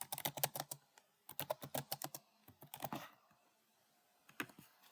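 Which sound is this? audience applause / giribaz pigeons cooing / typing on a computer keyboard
typing on a computer keyboard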